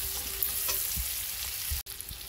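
Pieces of gathi kochu taro fry gently over a low flame in a pan, giving a steady soft sizzle with brief stirring scrapes, close and continuous.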